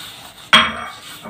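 A metal spoon stirs sesame seeds into hot jaggery in a pan with the stove off: one sharp clank against the pan, then a softer, fading scrape and a faint knock.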